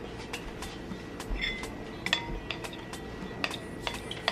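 Powdered sugar being mixed into syrup in a bowl, a steady series of clinking and scraping utensil strokes against the dish, close and without talk.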